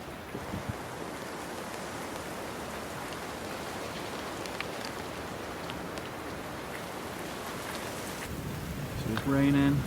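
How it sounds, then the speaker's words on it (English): Steady rain patters on a surface, a constant close hiss filling the whole stretch, with a brief louder rustle near the end. "It's raining"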